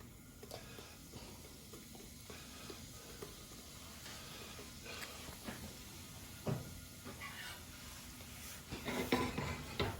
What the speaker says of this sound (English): the oil is in the pot, and I'm about to add my curry to burn it